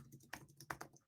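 Quick keystrokes on a computer keyboard while entering prompts in Google's Vertex AI: a close, crisp run of several irregular taps and clacks, with no voices.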